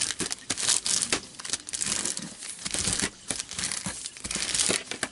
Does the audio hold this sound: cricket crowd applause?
no